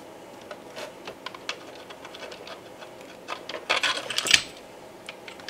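Small metallic clicks and taps come from rear mounting bolts being fitted into the enclosure of a dual 25-35 watt electronic load, clustered in a brief flurry near the end over a quiet background.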